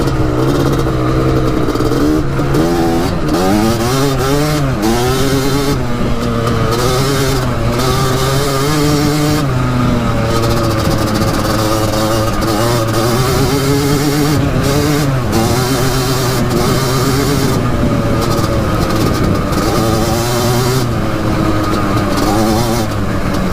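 A Kawasaki Tecate 4 250cc two-stroke quad runs in second gear, its engine buzzing loudly and continuously up close with repeated rising and falling revs as the rider works the throttle.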